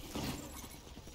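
A sharp, bright burst as a flashbang detonates in Valorant, a single shattering crack with a short hissy tail, close and loud.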